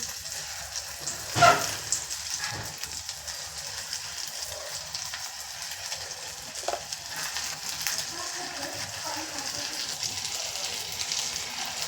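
Small pakoras frying in hot oil in a kadai on a gas stove, giving a steady, rain-like sizzle and bubbling with a brief louder clack early on.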